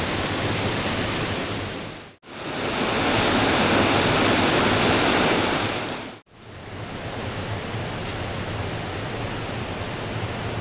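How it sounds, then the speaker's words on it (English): Cumberland Falls, a large waterfall on the Cumberland River in Kentucky, gives a steady, loud, broadband roar of falling water that fills the whole clip, broken by two brief cuts, with no voices. "The beauty of the Cumberland Falls draws visitors from across the world to come to Kentucky to see its grandeur."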